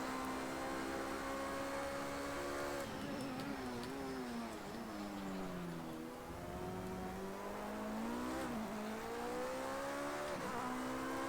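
Ferrari 333 race car engine in Project Cars 2, a loud sustained howl that holds steady, dips and swoops through gear changes and lifts, with brief tire noise around the rev drops; no voices.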